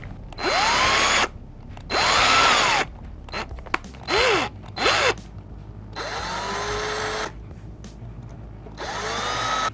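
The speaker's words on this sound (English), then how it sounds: "Drill." A power drill bores screw holes for locking tuners on a Squier Stratocaster headstock in short bursts of about a second each, its whine rising as the motor spins up. Several quick blips follow, then longer runs, all close and clear.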